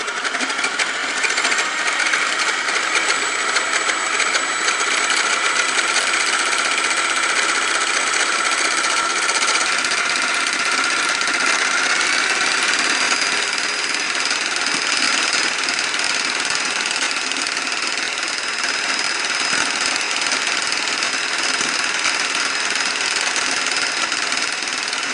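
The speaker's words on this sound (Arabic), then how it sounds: "نبداو نطربوه بالطراب الكهربائي" An electric mixer whips egg whites with a pinch of salt for a strawberry cream cake, a continuous loud buzzing whir held steady and close for the whole stretch.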